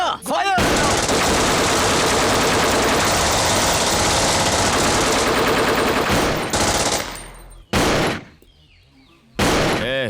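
Sustained automatic gunfire rattles loudly and without a break in a Hindi-dubbed action film, then cuts off, followed by two short, sharp bursts of shots separated by quiet gaps.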